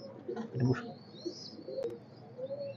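A male and female pair of teddy pigeons, KTM and Oman bloodline, coo softly at close range, a few low murmuring calls with a faint chirp, while someone talks quietly nearby.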